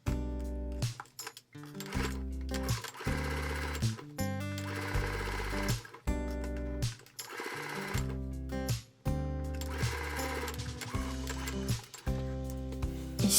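A sewing machine stitches along the edge of a small cotton mini tote bag with cream thread, running in loud, fast rattling bursts separated by short pauses.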